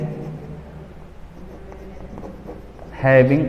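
Marker or chalk scratches across a board during a class lesson, soft intermittent strokes at close range, with a teacher's voice cutting in briefly at the end.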